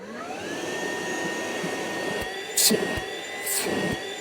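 A Ryobi PCL733 cordless hand vacuum runs steadily with a high, whining hum, close and fairly loud, with a couple of brief knocks and bursts of hiss.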